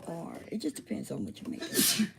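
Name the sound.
sneeze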